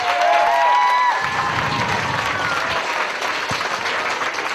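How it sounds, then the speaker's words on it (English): A theatre audience applauds two young performers, a broad, steady round of clapping with a few cheers, and a speaking voice running over the opening second. "give a good round of applause to two lovely young lads"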